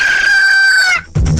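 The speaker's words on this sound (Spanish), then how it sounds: "El despertar del gallo." A rooster crows once, loud and close, in a single drawn-out cock-a-doodle-doo, followed by a brief rough burst of noise.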